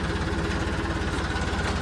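A tractor engine idles steadily with a dense, even low-pitched chugging throb and mechanical rattle, close and loud, with no talk.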